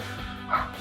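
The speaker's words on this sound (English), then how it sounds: "you can hear my dog barking in there for whatever reason" A dog gives a single short bark or yip from another room, muffled and moderately loud, over a steady low hum from an aquarium setup.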